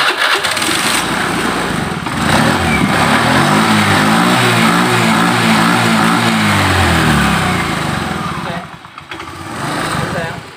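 A Honda Beat FI fuel-injected scooter that burns too much fuel and fouls its spark plug black is revved, its engine note loud and close, rising and falling steadily for about eight seconds before briefly dipping, with talk over it.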